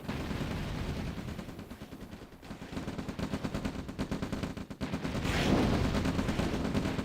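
Rockets fire in a real-time strategy battle in OpenRA Red Alert, a steady stream of rapid, rattling launches and blasts that swells near the end. No one speaks.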